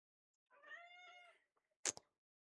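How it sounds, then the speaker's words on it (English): A cat lets out a drawn-out, harmonic screaming meow, followed moments later by a couple of short, sharp bursts, all close and fairly loud with no talking over it. "Please excuse the screaming cat."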